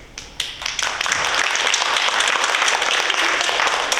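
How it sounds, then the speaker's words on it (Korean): A church congregation at a Sunday worship service breaks into sustained, dense applause for a newly married couple, the clapping swelling after a few scattered claps and continuing loud and even. "응원의 박수를 해주시기 바랍니다"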